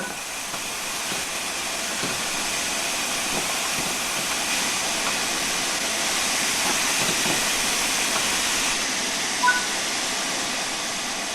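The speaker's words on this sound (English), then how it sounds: "Open the cylinder cocks to remove any water from the cylinders after the locomotive has been left standing." Steam hisses steadily and loudly from the opened cylinder cocks of a steam locomotive in the Train Sim World 4 video game, a broad continuous rush lasting about nine seconds before easing slightly near the end.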